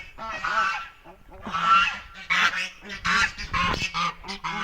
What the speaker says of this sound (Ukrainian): Гусиків.